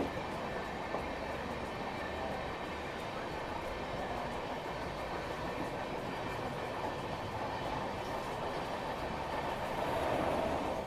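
Delhi-Mumbai Rajdhani Express running on the line, a steady, continuous rumble of wheels and carriage noise with faint rhythmic clatter, heard from on board at moderate level with no voices.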